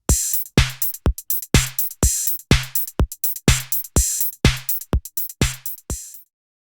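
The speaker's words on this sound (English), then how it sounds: "use AUM's file player to build a drum beat that sounds like this" A looped drum beat built from audio samples in the AUM file player: crisp, punchy hits in a steady repeating pattern with bright snappy transients and short low thumps, loud and dry, ending in silence.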